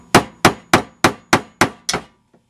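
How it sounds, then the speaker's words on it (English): Seven sharp, evenly spaced hammer blows striking a nail, each a crisp metallic knock with a quick decay, close and alone, followed by a faint tap. "with the use of a lever, you have much more advantage to hitting the nail"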